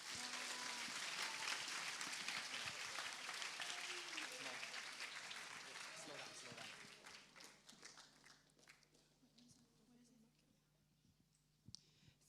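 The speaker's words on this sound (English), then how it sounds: "clapping is in order" Audience applause at the opening ceremony of a Model United Nations conference, with dense clapping through the first eight seconds. It then thins and fades into scattered claps and background voices.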